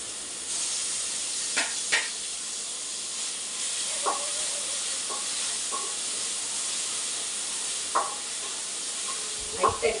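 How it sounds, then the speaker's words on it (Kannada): Vegetables and tomato for chicken fried rice sizzle steadily in a pan, a continuous close frying hiss with occasional stirring clinks and scrapes. "ಲೈಟಾಗಿ ಫ್ರೈ ಮಾಡ್ತಾ ಇದ್ದೇನೆ"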